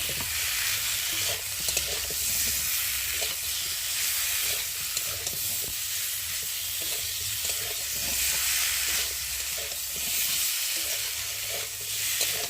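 Spice paste with ginger frying and being stirred in a pan for a fish curry with drumsticks, a steady close sizzle and hiss running throughout with light scraping stirs and no talk.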